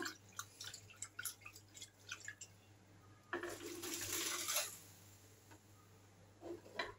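Warm salted, sugared water is poured into a jar of turnip pickles, with soft trickling and splashing building into a steadier gush midway, preceded and followed by faint drips and small clinks.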